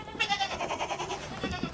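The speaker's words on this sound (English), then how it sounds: "Is it this poo-colored goat?" A brown, poo-colored goat bleats close up in one long, wavering, quavering call that lasts over a second, followed by a shorter bleat at the end, with no talking.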